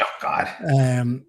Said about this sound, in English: That's my dog's going mad.